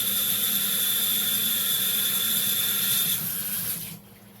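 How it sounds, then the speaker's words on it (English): A kitchen sink tap runs in a steady hissing stream as hands are rinsed beneath it, close and constant before the water shuts off and fades near the end. "I'm going to rinse my hands off here"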